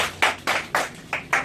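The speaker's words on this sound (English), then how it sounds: "A clap, please." A small group claps briefly for a child at a classroom event in Kenya, with five distinct bursts of applause, close and fairly loud.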